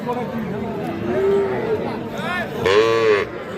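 A bull calf moos twice at a cattle market, the second call louder and longer, over steady background chatter and outdoor noise.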